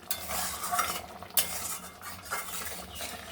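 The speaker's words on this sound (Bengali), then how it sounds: "পটলটা দিয়ে একটু নাড়াচাড়া করে" Pointed gourd pieces being stirred in a pan of yogurt curry, a spatula scraping and clinking against the metal in a few quick passes over a soft simmering sizzle, close and without talk.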